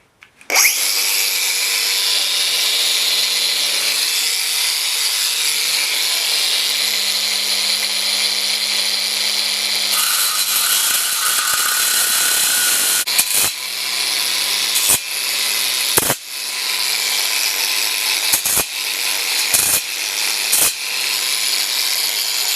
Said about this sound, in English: Get your saw ready.